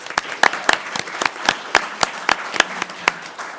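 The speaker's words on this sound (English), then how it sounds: "Let's give them all a big round of applause." Sparse applause at a city commission meeting for Black History Month essay contest award winners: a small group clapping in distinct, fairly loud individual claps with a loose, uneven rhythm.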